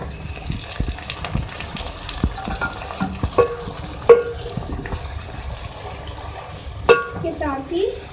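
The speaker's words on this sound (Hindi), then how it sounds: "इसमें अब मैं डालूंगी गोश्त।" Beef meat goes into a pot for a Pakistani bhindi gosht curry and is stirred and fried, giving a steady low sizzle with scraping spoon strokes and clinks against the pot, close up and without talk.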